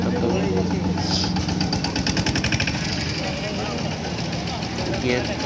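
A new 2023 Hindustan 60 tractor, built under a Mahindra & Mahindra and Gujarat government venture, idles with a loud, close, steady diesel chug and rapid mechanical knocking throughout while someone talks over it.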